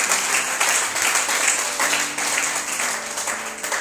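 A church congregation applauds for the Lord, dense continuous clapping filling the room loudly and evenly for a few seconds.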